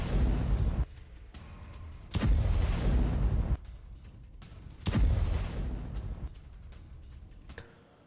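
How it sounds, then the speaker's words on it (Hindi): Several loud, deep booms burst out one after another, each followed by a rumbling decay, with quieter background noise between the blasts. "वायरल वीडियो में जोरदार धमाके"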